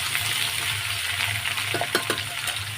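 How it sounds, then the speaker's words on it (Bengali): Potatoes fry in a pan for a home-style potato curry, giving a steady close sizzle, with a few light clinks and stirring scrapes near the end. "আলুটা একটু ভাজা ভাজা করে নিই"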